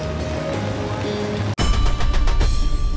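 Water rushes from the opened gates of the Khadakpurna dam in a loud, steady broadband roar, interrupted by one abrupt cut before the roar resumes.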